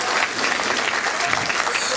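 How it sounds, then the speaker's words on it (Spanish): A dense, steady burst of applause from a large audience at an education conference, honoring an engineer from the education ministry, loud and continuous throughout with no break. "Un fuerte aplauso para él."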